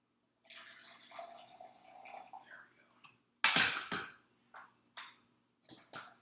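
Water trickling into a vessel, followed by several short louder splashes and pours in quick bursts, close up and with no speech.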